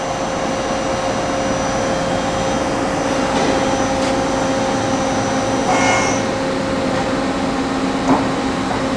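A 1986 Okuma Howa Millac 4VA three-axis CNC vertical machining center drives its Y-axis out, giving a steady, loud mechanical hum and whir with a faint higher whine and small clicks, and no voices.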